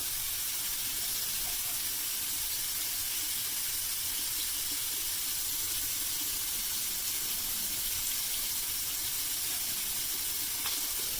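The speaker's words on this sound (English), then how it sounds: "I'm just going to go ahead and rinse this some, see if I get anything coming out of it." Steady running water pours over a plastic aquarium corner bubble filter being rinsed under a tap, a continuous close hiss and splash with no break and no talking.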